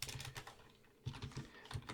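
Quick, close clicks of fingers typing on a computer keyboard in a quiet room, in irregular bursts with a short pause in the middle and no voices.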